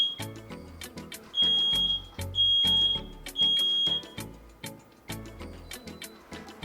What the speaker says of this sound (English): Something has set off my fire alarm.